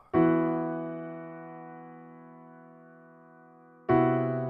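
Two struck piano chords from the intro of a song, each ringing out and slowly decaying, the second arriving after a long sustained pause; solo and clear.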